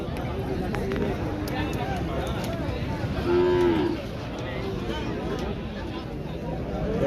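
A cow at the Pebbair Saturday cattle market gives one drawn-out moo of under a second, set against the steady murmur of the crowd. People talk throughout.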